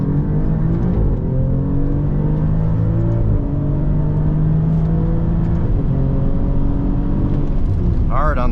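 A 2024 Alfa Romeo Giulia Quadrifoglio engine revs hard on a track, powering out of a slow corner, and holds a rising, droning tone as it accelerates, loud and close throughout.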